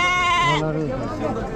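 At a large goat and sheep market in Chakan, Maharashtra, one loud close bleat from a goat or sheep breaks off, followed by a lower wavering bleat.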